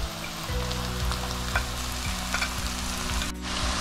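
Three chopped onions sizzle and fry steadily in a pan for fish karahi, a close, continuous crackle with occasional stirring scrapes and no talk.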